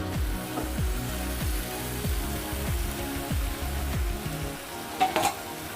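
Fish head and Malabar spinach fry in a pan for a mixed vegetable dish. A loud, steady sizzle runs under rhythmic stirring scrapes, and a brief utensil clatter comes near the end.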